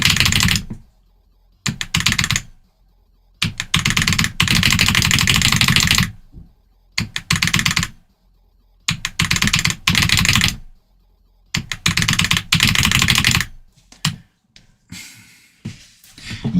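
A computer keyboard is typed on in loud, close bursts of rapid key presses separated by short silences, with no voices.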